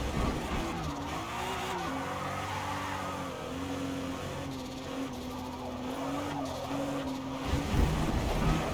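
A car in the Forza racing game drives with tires squealing, its engine note rising and falling as it skids through corners, continuous and prominent, with no talk.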